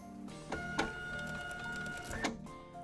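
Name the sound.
label printer printing a test label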